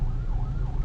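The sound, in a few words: siren of a police or ambulance convoy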